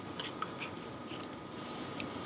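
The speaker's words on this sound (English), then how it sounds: "I'm just going to grab the scissors and cut that out just so it's a little bit easier" Scissors snip through vinyl heat transfer material, a few soft crisp cuts and rustles close by, with no talk.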